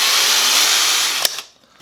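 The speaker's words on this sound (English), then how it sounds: "And I'm just going to drill this with a hand drill." A hand drill whines loudly as it bores through the sheet metal of a 100-year-old doorbell, steady for over a second before cutting off with a couple of clicks.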